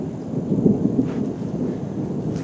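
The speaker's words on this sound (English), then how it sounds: "as you can hear, there's still a storm going on" A thunderstorm rumbles as low, rolling thunder over steady rain, continuous and fairly loud outdoors, with no one talking.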